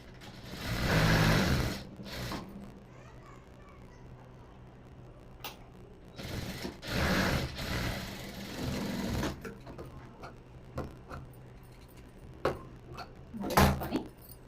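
Sewing machine stitching the shoulder seam of a churidar, in two longer runs of steady whirring with short bursts and pauses between, close and clear with no talking.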